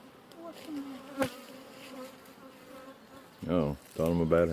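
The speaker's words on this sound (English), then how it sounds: "He's playing with the bees." Bees buzz at a ranch near their hive, a faint wavering drone rising and falling as insects fly past, with voices talking over it toward the end.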